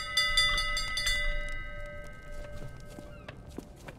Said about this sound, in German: Hörst du die Glocke nicht?